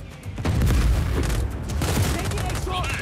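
A tank fires in the Just Cause 4 video game: heavy booming blasts and rolling explosive rumble, loud and close, with bursts of gunfire crackling through the din.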